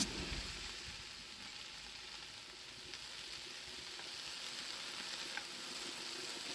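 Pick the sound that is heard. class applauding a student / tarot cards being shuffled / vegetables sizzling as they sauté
vegetables sizzling as they sauté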